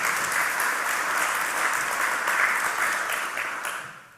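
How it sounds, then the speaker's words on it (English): Sustained applause from a leadership summit audience honoring the event organizers, a dense, even wash of many clapping hands that holds steady and then fades at the end. "Can we give them all a round of applause, please?"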